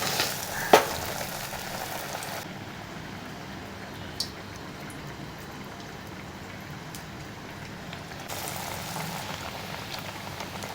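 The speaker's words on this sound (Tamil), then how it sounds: "எண்ணெய் சூடாயிடுச்சு. நம்ம வடையை பொரித்து எடுத்துக்கலாம்." Masala vadas fry in hot oil with a steady, dense crackling sizzle that runs throughout, close and even, broken by a couple of brief sharp pops.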